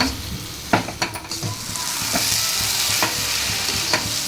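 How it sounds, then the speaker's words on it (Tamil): Elephant foot yam frying in oil while being stirred, close sizzling with a series of spoon scrapes and knocks against the pan, the frying steadying into a constant hiss. "எண்ணெய் விட்டு ஒரு ரெண்டு நிமிஷமாக கலந்துட்டுருக்குறேன்"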